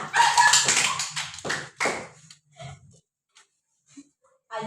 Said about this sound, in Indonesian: Beri tepuk tangan kepada teman kita.